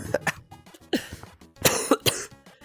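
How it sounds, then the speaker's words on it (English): A person coughs repeatedly in short, harsh bursts, several coughs in an uneven rhythm, close and loud with no talking. "My cough does not want to allow me."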